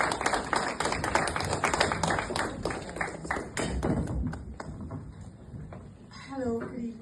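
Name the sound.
audience applause welcoming a guest to the stage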